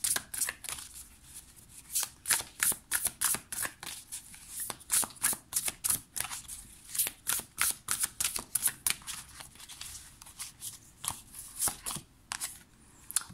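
Beautiful Creature Tarot cards being shuffled by hand, a quick run of crisp riffling slaps and flicks in uneven bursts, close and fairly quiet, with no talking.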